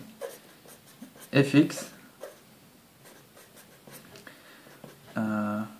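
A pen scratching out a math function on a writing surface during a lesson, with short bursts of scribbling mixed in with someone talking close by.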